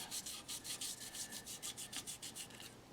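Fine 2400 grit sandpaper rubbed over the finish of an Art Nouveau style pedestal planter, a steady run of soft, close rasping strokes, about five per second, repeated evenly with no talk.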